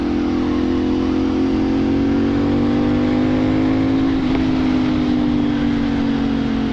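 CFMoto 450SR motorcycle engine with a catalytic delete and SC Project exhaust, revving loud and close at a steady high pitch, rising slightly then holding, a harsh continuous roar with no talk.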